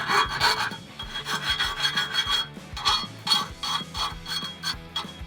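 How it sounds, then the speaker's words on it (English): A metal file deburrs the cut end of an exhaust pipe during a Roush axle-back exhaust install on a 2015–2017 Mustang V6, rasping in quick, close, evenly spaced strokes. "we're just going to take our file, deburr this, make sure nothing is sharp"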